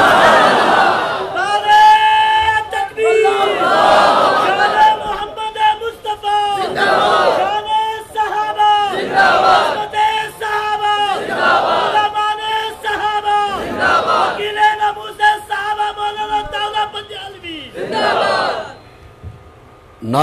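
A large crowd at a religious gathering chants slogans in loud, rhythmic bursts, repeated call after call with short pauses between, voices massed and echoing, fading out near the end.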